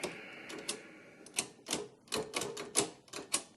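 An Underwood 319 typewriter with its faulty mechanism being handled up close, giving irregular quiet clacks and metallic snaps in uneven bursts, no talk.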